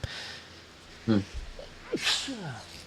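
A single sneeze bursts out near the microphone, followed by a brief sniff and breathy vocal noises in a quiet room.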